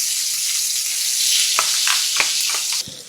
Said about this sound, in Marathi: आता या तेलामध्ये घालूयात हे वाटण.